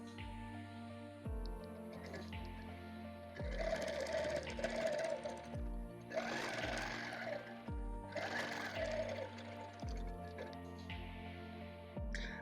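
Sewing machine stitching a hexie quilt border at a slow cruise speed, whirring in repeated bursts of several seconds with brief pauses between runs, close and steady, no talking.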